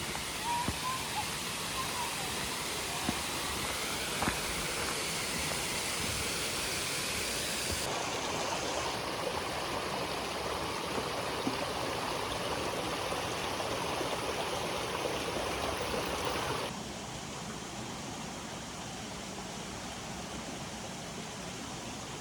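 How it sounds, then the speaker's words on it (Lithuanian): A mountain waterfall in Czechia pours with a dense, continuous broadband rush that holds steady throughout, changing slightly in tone as the listening position shifts, with no voices over it. "Čia krioklys"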